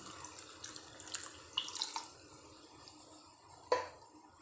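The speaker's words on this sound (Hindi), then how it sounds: "मैं पानी डाल रही हूँ।" Water pours into a cooking pot of red beans with a close splashing gush. It trickles and drips on and off, and one final sharp splash comes near the end.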